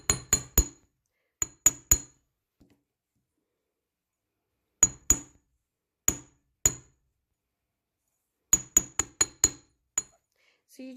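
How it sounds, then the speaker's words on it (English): A hammer taps wire on an anvil resting on a cloth, making crisp, close metallic clinks in quick clusters of three or four strikes separated by silent pauses. "It's a lot faster doing it with a hammer than a pair of pliers. So I'm just going to tap away at this."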